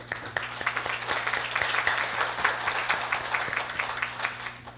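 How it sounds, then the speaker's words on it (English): An audience at a university event applauds the translators, a steady wash of many hands clapping throughout, moderately loud and continuous with no voices on top. "Let's give a round of applause to the translators"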